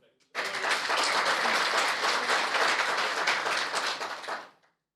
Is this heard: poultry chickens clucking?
no